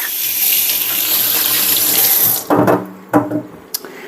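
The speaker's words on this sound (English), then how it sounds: "I'm just going to rinse my hand quick." Water runs hard from a sink tap while a hand is rinsed in a kitchen, a loud steady gush that cuts off partway through, followed by a few close knocks and clatters.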